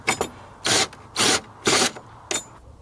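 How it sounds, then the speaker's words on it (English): Step drill bit lightly deburring a drilled hole, four short buzzing bursts of cutting with brief pauses between, close and fairly loud. "we can use the step drill to deburr our hole here and just very lightly"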